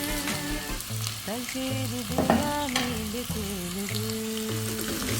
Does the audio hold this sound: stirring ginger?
yes